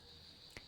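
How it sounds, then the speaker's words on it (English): Cicadas drone in a morning mountain jungle as a steady, faint high-pitched buzz, with one brief sharp click partway through. "we have so many cicadas going on right now"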